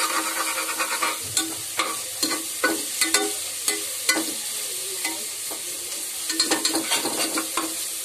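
Onions and spices for prawn biryani sauté in a pan, a steady soft sizzle under repeated scraping strokes of a stirring spoon, close and fairly quiet.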